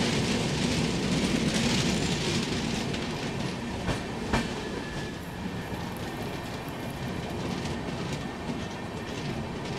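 Rajdhani Express passenger train running on the tracks while overtaking another train on the Bhopal route, heard as a steady loud rumble with rhythmic clickety-clack of wheels and a few sharp clanks, no talk.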